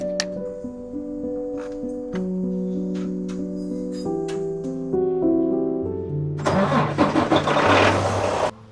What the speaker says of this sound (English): Got the truck turned on